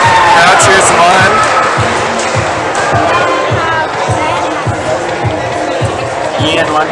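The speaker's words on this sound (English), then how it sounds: "Crowd cheers him on." A crowd at the 2024 ACA Provincial Top Rope Finals cheering on a climber, with steady rhythmic clapping or stomping under a wash of crowd noise and voices talking over it.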